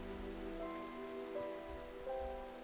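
Rain falling in the Minecraft video game, a quiet, steady patter of drops on surfaces, heard alone with no talking.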